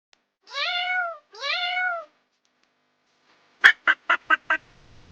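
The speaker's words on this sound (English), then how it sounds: "It's a cat. Say it with me." A cat gives two drawn-out meows close by, followed after a short pause by five quick, sharp honking calls in a fast run.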